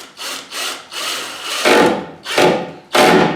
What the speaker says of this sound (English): now I'm going to go ahead and start a screw on this side